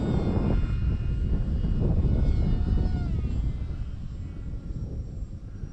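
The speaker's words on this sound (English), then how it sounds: "that little white plane on that cloudy sky" A Value Hobby Condor X-75 RC airplane flies overhead, its small engine giving a steady, fairly loud whine that shifts in pitch as it passes and then fades, no voices.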